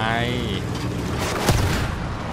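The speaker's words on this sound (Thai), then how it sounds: "มองไม่เห็นก็ยิงปืนใหญ่เข้าไป" Artillery fire in Battlefield 1: a heavy cannon boom erupts midway over a constant rumbling battlefield din, with a voice or tone briefly at the start.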